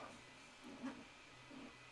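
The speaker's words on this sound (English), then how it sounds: "I set the printer off again, so you can hear that chugging away in the background again." A 3D printer chugs faintly and steadily in the background with a few soft bumps, quiet and distant, with no voices.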